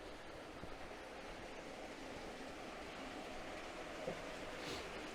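Faint, steady rushing of the Lost River flowing somewhere out of sight in the Blue Ridge Mountains in fall, a soft continuous broadband hiss with no voices.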